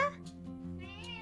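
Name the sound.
cat meowing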